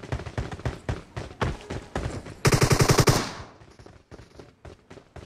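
A PUBG Mobile match brings repeated sharp gunshots, first single spaced cracks, then a dense rapid automatic burst, then more scattered shots tapering off, loud and close with no speech.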